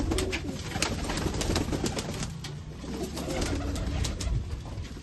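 Pakistani golden pigeons coo steadily at a pet shop, a dense, continuous murmur of many birds close by, with no talking over it.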